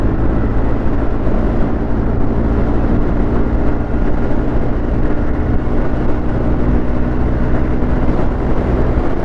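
A TVS Ntorq Race Edition scooter accelerating at full throttle on a road, its engine a loud, continuous drone with steady wind rush and no break.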